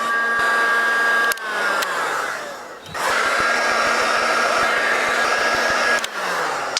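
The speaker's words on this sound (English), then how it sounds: "So I have some heat shrink, so I'm going to shrink that now." Heat gun shrinking heat shrink tubing over a cooling fan cable, a loud steady blowing whir that dips briefly twice and restarts, close up, with no talking.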